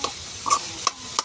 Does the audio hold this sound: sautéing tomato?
yes